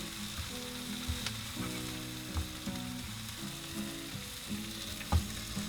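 A breakfast wrap cooks in a frying pan in a camper van, a steady close sizzle broken by scraping and knocks as it is stirred and flipped, with one louder clank near the end.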